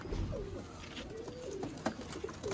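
A pair of red-eyed breeder pigeons coo repeatedly, the soft rolling calls close and fairly clear over a faint room background, with no talking.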